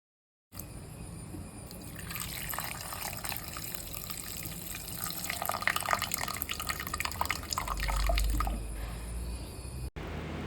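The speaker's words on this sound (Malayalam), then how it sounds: "പിന്നെ നമ്മൾ പുളിവെള്ളവും കൂടി ഒഴിച്ചു കൊടുക്കാൻ കേട്ടോ ഇതിലേക്ക്." Tamarind water poured into a simmering prawn and coconut curry, a steady liquid trickle and splash that builds in the middle and fades near the end, close and moderately loud with no talking.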